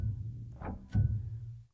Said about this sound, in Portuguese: O pedal abafador.